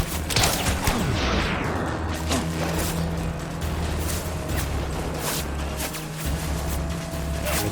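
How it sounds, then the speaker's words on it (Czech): Gunfire aimed at the player in the video game Death Stranding, heard as rapid, dense bursts of shots over a constant low mechanical rumble, loud and continuous across the whole stretch with no talk. "Teď po mě ještě střílí"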